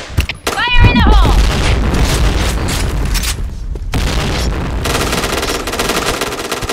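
Explosions and gunfire from the game Point Blank on the Luxville map, with a loud booming burst and rapid firing near the start, a shouted voice, then steady rumbling battle noise continuing throughout.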